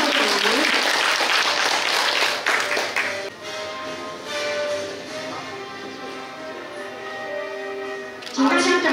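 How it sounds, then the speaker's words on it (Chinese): An audience applauds a newly installed school principal at a county principals' handover ceremony, with a burst of clapping at the start, a quieter stretch with a voice over a PA, and another round of applause near the end. "请大家给予掌声，恭喜校长。"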